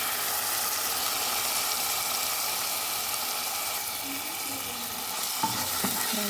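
Egg fried rice sizzles in a hot pan with soy sauce and vinegar, a steady loud hiss of frying broken near the end by a few stirring scrapes and clinks.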